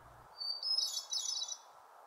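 A hermit thrush sings a clear, fluting phrase of rising and falling notes, close and alone over a soft steady background hiss, with no voices.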